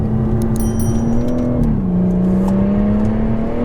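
BMW M140i engine pulling hard under acceleration, a loud, steady close-up drone that dips briefly as it shifts gear, then climbs again.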